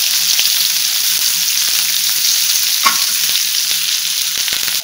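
Mustard seeds, cumin, curry leaves and green chillies sauté in hot oil for a bun dosa filling, a loud, close, unbroken hiss dotted with sharp crackling pops and no speech.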